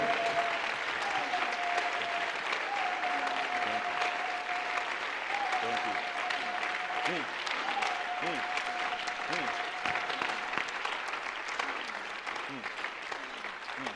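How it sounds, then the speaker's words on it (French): A church congregation claps steadily during a French-language worship service, a soft, fairly distant wash of applause with a voice calling out over it at intervals. "Applaudis très bien pour le Seigneur."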